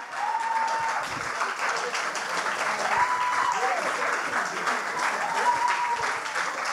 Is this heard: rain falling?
no